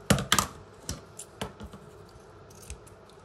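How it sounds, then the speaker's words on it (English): Scissors snipping through felt for an embroidery bracelet, a quick run of crisp close cuts followed by sparser single snips, with no voice over them. "I'm going to cut it to the size of my felt."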